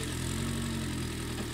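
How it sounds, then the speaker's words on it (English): Engine of a remote-controlled 8x8 Mudd-Ox amphibious vehicle running just after starting, a steady low droning idle with a constant rumble and hum, close and unchanging for the whole stretch. "The engine starts."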